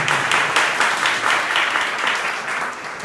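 Students at a medical college seminar competition give steady, dense applause, the many hands blending into a continuous wash of clapping that holds for several seconds.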